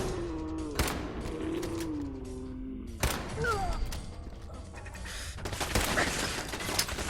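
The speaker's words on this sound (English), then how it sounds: "we're just gonna start shooting this person" Gunfire in the video game Fallout 4 during a firefight, with sharp bursts and mechanical clicks and creaks spread across the clip, set against low game ambience and some whistling tones.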